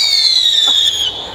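A firework going off, heard as a loud, steady high whistle that slides slowly downward for just over a second with no bang, close by and alone.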